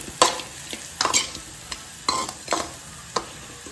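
Okra stir-fry being stirred and fried in a pan: a spatula scrapes in about half a dozen distinct strokes over a constant low sizzle, close and fairly loud.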